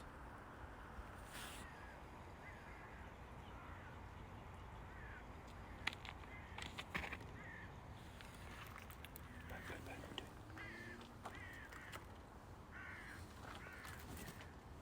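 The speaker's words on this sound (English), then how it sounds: "It sounds like a bunch of crows or ravens are flying overhead." Crows or ravens caw overhead in a quiet outdoor setting, with several rough calls scattered across the stretch, faint and somewhat distant, and soft murmured voices now and then.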